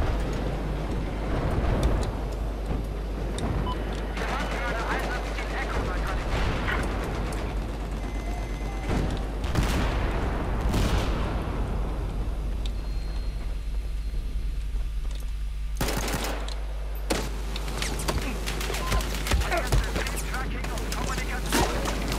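Battlefield 4 multiplayer gunfire, with repeated sharp shots and bursts over a constant low rumble of game noise, some volleys louder and closer than others.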